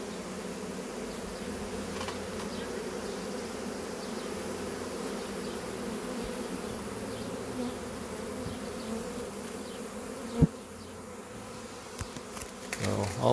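A honey bee swarm buzzes steadily and densely around a five-frame nucleus hive box, a close, continuous drone with a few sharp knocks near the end.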